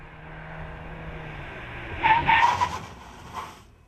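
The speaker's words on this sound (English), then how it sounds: "Then it's time to slam on the brakes" An Audi brakes hard from 80 km/h with its tires skidding: a faint road rumble builds into a short, loud burst of tire squeal and scrub about halfway through, then fades with a smaller flare near the end.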